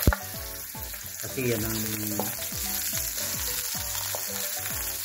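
Chopped onions sautéing in cooking oil at the start of a Filipino pork pochero with bananas, a steady close sizzle and crackle with utensil stirring clatter, while someone talks briefly over it.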